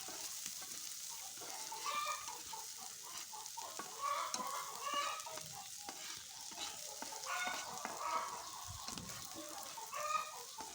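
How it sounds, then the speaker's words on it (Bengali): Onion, ginger and garlic fry in a wok with a soft sizzle and stirring scrapes, while chickens cluck intermittently in the background and no one speaks. "কড়াইতে পেঁয়াজ আদা রসুন ভেজে নিতেছি"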